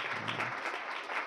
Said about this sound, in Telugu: చప్పట్లు కొడదాం ఒకసారి.